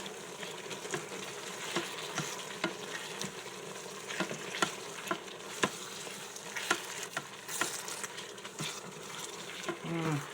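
Cream cheese softening into browned hamburger meat in a hot pan for a keto casserole, a low continuous sizzle broken by frequent soft scraping stir strokes, close and fairly quiet.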